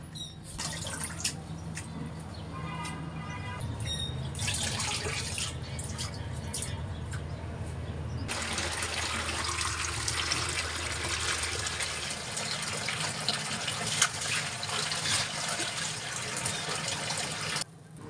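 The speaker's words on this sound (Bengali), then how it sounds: "খুবই আলতো হাতে, একদম নরম হাতে ফুলগুলো খুব সুন্দর করে ধুয়ে নিতে হবে" Pumpkin flowers washed gently by hand under running tap water, a steady close gush and splash that changes tone partway through as the flow shifts, continuing throughout without speech.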